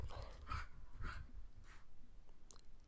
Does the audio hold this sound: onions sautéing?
no